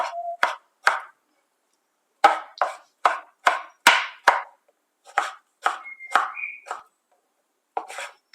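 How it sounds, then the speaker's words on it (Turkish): A knife chops through tomatoes on a board in a series of sharp, irregular cuts, close and distinct, with brief pauses between bursts. "3 adet domatesimiz var. Onları doğruyoruz."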